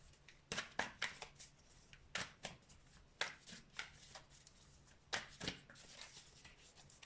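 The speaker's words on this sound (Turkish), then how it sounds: "Ay kartlar yavaş yavaş şöyle bir karışmış." A deck of tarot cards shuffled close by in soft, quiet riffles, a few bursts of rapid flicking separated by short pauses, with no voices.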